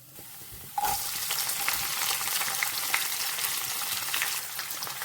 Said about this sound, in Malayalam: ഇളക്കി കൊടുക്കാം ഇനി നമുക്ക് ബാക്കിയുള്ള ഇൻഗ്രീഡിയൻസ് ഇട്ട് കൊടുക്കാം സവോള കറിവേപ്പില പച്ചമുളക്